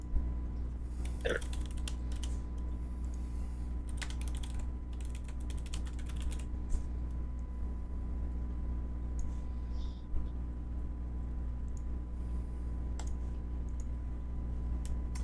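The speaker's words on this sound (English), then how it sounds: "Sorry, I was typing." Computer keyboard typing during a tabletop roleplaying podcast, with irregular bursts of faint key clicks over steady background hum and no talk.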